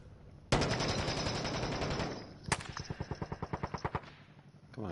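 Rapid automatic gunfire in the video game Warzone: a loud sustained burst, then a second burst of about a dozen evenly spaced, distinct shots that trail off.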